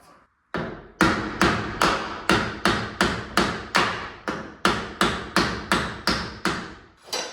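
A hammer drives a nail into an interior door frame about fourteen times in a steady, even rhythm, each blow a sharp, ringing knock close by with no talking.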